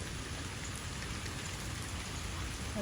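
Steady, dense monsoon rain pours down continuously, a broad hiss of drops hitting surfaces with no pauses and no voices.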